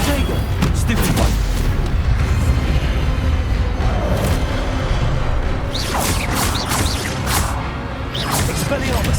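Spell combat in the video game Hogwarts Legacy: loud booms, whooshes and crashing magical impacts layered over continuous rumbling, with a voice speaking in bursts throughout.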